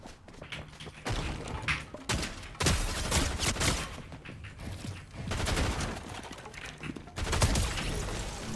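Bursts of gunfire from a Fortnite match ring out in rapid, loud volleys, broken by heavy thuds and impacts.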